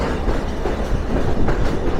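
Silk City Express rounding a curve on its way to Dhaka, a dense rolling rumble of carriages with faint rail clatter, loud, steady and close throughout.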